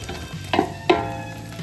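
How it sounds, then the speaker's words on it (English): Fat and meat browning in a pan for Bolognese, a steady close sizzle with two brief stirring clatters. "See it's frying down there?"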